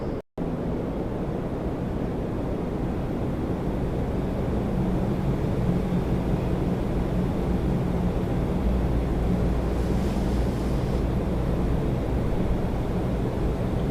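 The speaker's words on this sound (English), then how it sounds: "Porter 207 on the roll. Embraer 195 E2 to Halifax." A Porter Embraer 195 E2 jet rolls down the runway at Toronto Pearson, a steady, dense engine rumble holding continuously with wind noise and no talking.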